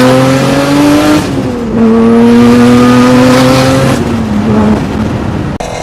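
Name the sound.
Acura NSX car driving in a Need for Speed video game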